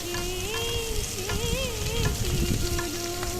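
Drumstick stems go into a pan of lightly fried onions and sizzle steadily up close, with stirring crackles and a wavering tonal sound in the background.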